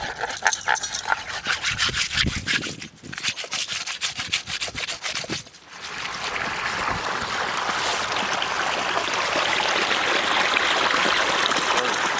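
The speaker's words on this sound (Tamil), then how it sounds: "இப்போ மீனை நம்ம நல்லா உப்பு போட்டு உரசி கழுவ போகிறோம்" Whole fish rubbed firmly with salt and washed by hand in village-style cooking: rapid rhythmic gritty scrubbing for several seconds, then a steady wash of running, splashing water, close and fairly loud.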